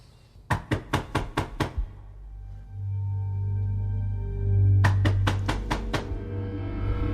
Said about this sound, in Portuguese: Eu ouvi uma batida forte na porta, que foi tão alta que me assustou e me irritou.